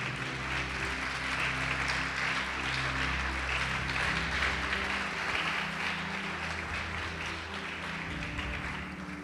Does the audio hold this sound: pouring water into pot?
no